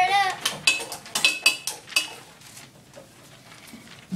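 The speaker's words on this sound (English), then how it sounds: "Stir it up." A spoon clinks and scrapes against a bowl in a quick series of bright taps over the first two seconds, stirring ingredients, then softer scattered knocks follow.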